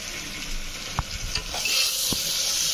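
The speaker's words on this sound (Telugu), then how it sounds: "బాగా మిక్స్ చేసుకోవాలి అన్నీ కలిసేంత వరకు." Spices and salt, including garam masala, are stirred into a hot frying pan. A bright continuous sizzle runs under a few scattered scrapes and knocks of the spoon.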